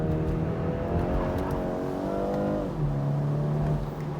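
A 2024 BMW 430i xDrive Cabriolet in sport mode with traction control off and manual shifting accelerates hard, its engine note climbing steadily, then dropping at an upshift and settling into a lower drone, loud and close with no speech.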